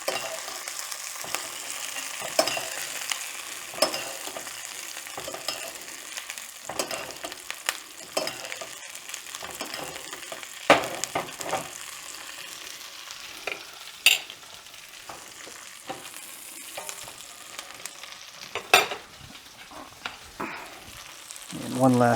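A NY strip steak sizzles loudly in a cast iron skillet with garlic thyme butter, a continuous close frying hiss broken by scrapes and clinks from basting.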